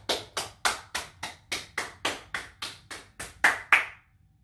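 A single person claps hands at a doorway, thirteen crisp, evenly spaced claps in a steady rhythm, close and fairly loud, ending in silence.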